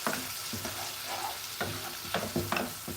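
Green leaf vegetables stirred in a sizzling pan, cooked the Sierra Leone way, with repeated scraping strokes of the spoon cutting through a steady close fry.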